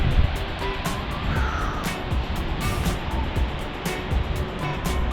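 A broad, continuous roar of a waterfall heard from a distance near Georgetown, Colorado, with faint scattered knocks and rustles over the top.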